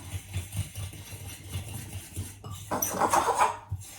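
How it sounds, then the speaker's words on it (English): A spoon stirs protein powder and oats in a bowl, making clinks and scraping rattles that grow busier and louder toward the end. "And then give it a little bit of a mix."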